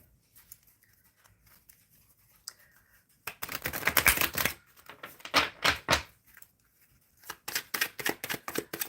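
Tarot cards being shuffled by hand during a live reading, heard as crisp papery riffling bursts in several separate rounds with quiet pauses between them, close and fairly soft, with no talking.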